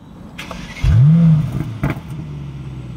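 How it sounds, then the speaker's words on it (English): A Mercedes-AMG E63S V8 starts up with a sudden loud roar, a rising revving flare that holds briefly and then settles into a deep, steady idle rumble, close and alone. "Then you get the loudest startup, as you can see."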